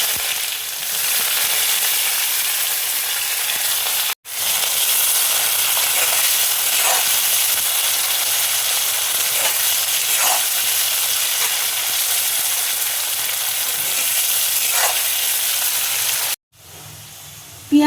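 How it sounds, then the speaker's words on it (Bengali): Chopped onions frying in hot oil with dry red chilli, bay leaf and whole garam masala, a loud, steady, close sizzle with faint clicks of a spatula and a brief dropout twice. "পেঁয়াজ দেখো লাল করে ভেজে নিয়েছি।"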